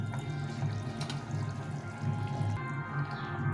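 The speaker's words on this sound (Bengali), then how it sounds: "ঝোলটা ফুটে গেছে, আমি এখন মাছগুলো দিয়ে দেবো।" A pot of fish curry broth simmers at a steady bubbling boil, with continuous soft gurgling and light splashy texture close by, no voices.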